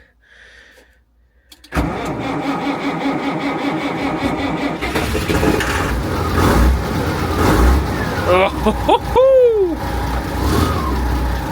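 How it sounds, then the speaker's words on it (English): A vintage Massey Ferguson tractor engine cranks and catches on a cold day, then runs steadily with a rising rev, loud and close. A voice briefly exclaims near the end. "This is vintage Massey Ferguson."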